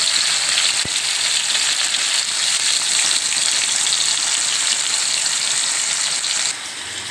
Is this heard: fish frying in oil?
yes